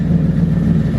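A Ford Crown Victoria runs with a loose exhaust, giving a loud, steady low rumble with a faint rattling shake throughout the short stretch.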